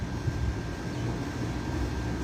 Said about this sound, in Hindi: ये अपने पाकिस्तानी फाइटर जेट्स हैं